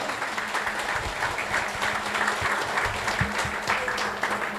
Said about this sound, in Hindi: तो जोरदार तालियां हो जाए अंसार के लिए।